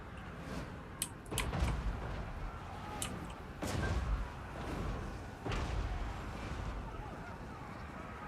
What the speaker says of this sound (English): I think the artillery is shooting that rune lord.